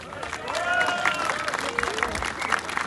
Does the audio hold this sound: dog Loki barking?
no